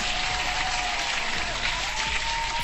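A hand-clap applause sound effect plays as a dense, steady wash of clapping that is loud and continuous throughout, with no talking over it.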